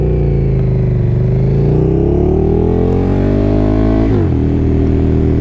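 KTM 1290 Superduke R motorcycle engine revving loud and close, its pitch climbing steadily for about four seconds before dropping sharply into a lower idle.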